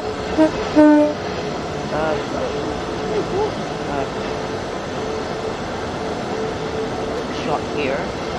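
A Class 66 locomotive rumbles steadily in the Train Sim World 3 video game on a Southeastern route, with a couple of brief horn-like tones near the start and a voice speaking over it.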